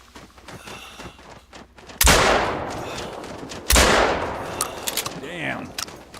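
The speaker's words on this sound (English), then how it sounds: "Should have been two at least out of those 4 shots" Two loud shotgun blasts boom out in the hunting game theHunter: Call of the Wild, a couple of seconds apart, each followed by a long decaying echo, with quiet ambient sounds before and after.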